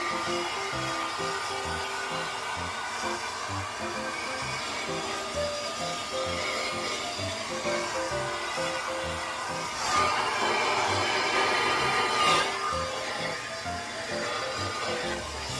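A hair dryer blows steadily, close and fairly loud, while blow-drying and stretching type 4 hair; the airflow roar shifts slightly in tone as it moves, with brief louder swells, and no one speaks.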